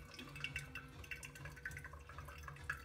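Hot water trickles and drips softly into coffee grounds in a pour-over brewer, faint and close, with small irregular splashes and light glassy ticks over a quiet low hum.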